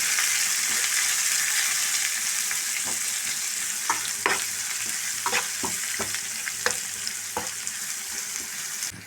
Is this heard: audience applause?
no